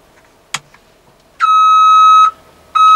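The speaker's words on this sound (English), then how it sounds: "that's my reverse beeper" Reverse beeper switched on on a Kubota 5740 tractor with HST pedal control: a click, then a loud steady electronic tone held for about a second, pausing, then starting again, with no talk.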